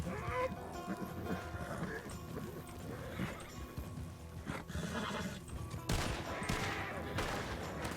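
Several horses neigh and snort amid scattered gunfire in a RedM Red Dead roleplay shootout, hooves clopping close by and a voice talking underneath.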